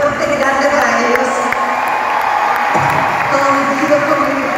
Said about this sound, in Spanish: Un aplauso fuerte y grande para ellos.